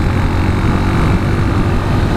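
Cleveland Cyclewerks Ace 250 single-cylinder carbureted motorcycle engine droning steadily while riding, a loud, continuous low rumble mixed with wind noise and no voices.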